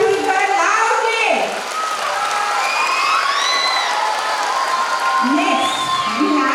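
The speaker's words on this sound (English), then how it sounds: "Can we have a big round of applause for Gagandeep and Jessica Tulkar loudly?" A school audience at an annual day celebration claps and cheers, a busy crowd roar with whoops and children's voices rising over the steady applause.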